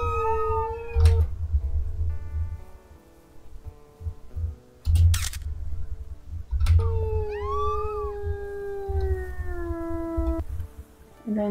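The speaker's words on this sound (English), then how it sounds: "Let's have a nightly howl." Wolves howl at night in the WolfQuest video game, several drawn-out, wavering tones overlapping and sliding downward over a steady low rumble, fairly loud and without speech.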